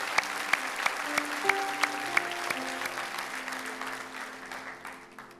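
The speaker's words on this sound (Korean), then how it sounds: "박수로 하나님께 감사의 박수." Applause from a church congregation at a Sunday worship service, a moderate steady patter of many hands with a few sharper claps standing out, set against sustained tones and gradually fading.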